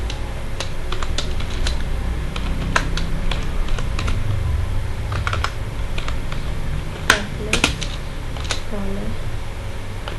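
Rapid, irregular keystrokes on a computer keyboard as PHP code is typed, close and crisp, with occasional sharper clicks and some pauses between bursts.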